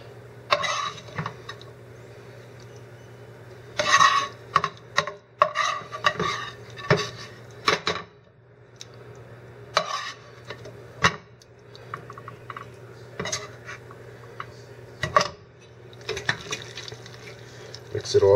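A utensil repeatedly scrapes and clacks in a bowl as macaroni and cheese is stirred together with Sloppy Joe, irregular knocks and wet squelches over a low steady hum.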